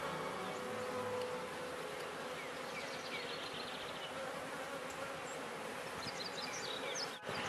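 A dense, steady hum of many honeybees buzzing around an opened top bar hive during repair work, close and continuous throughout.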